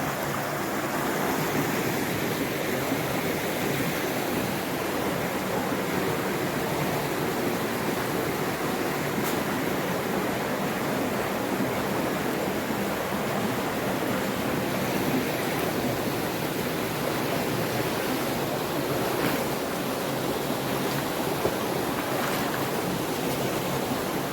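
Waterfall inside Nilambur forest giving a steady, dense rushing roar of falling water, even and unbroken throughout, fairly close, with no voices.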